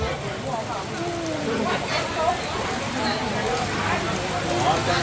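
Heavy rain falls steadily throughout, a dense even wash at a housewarming gathering, with voices murmuring faintly underneath.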